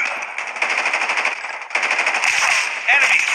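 Rapid automatic gunfire from the video game Call of Duty rattles in dense, continuous bursts, loud and close, with brief sharper cracks near the end.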